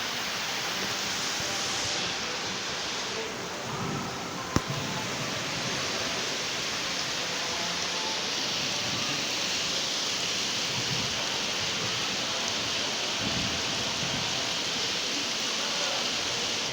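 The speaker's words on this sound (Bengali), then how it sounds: "প্রচুর বৃষ্টি হচ্ছে, প্রচুর।" Heavy rain pours steadily as a dense, loud, continuous hiss of water with no breaks and no voices.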